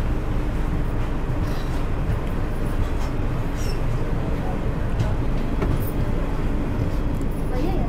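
The Sainagar Shirdi–Kakinada Express pulls away from Sainagar Shirdi station, a dense, steady low rumble of rolling wheels and carriage noise close by with faint clanks on top.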